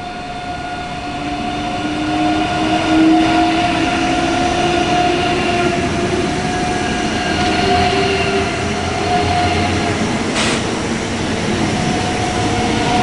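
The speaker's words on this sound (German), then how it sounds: "Und gerade Rangierfahrt." A shunting movement rolls through a station in Aschaffenburg, a steady loud rumble of rail cars with faint wheel squeal and tonal hums throughout, no talking.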